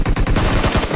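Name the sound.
gunshot in PUBG Mobile video game match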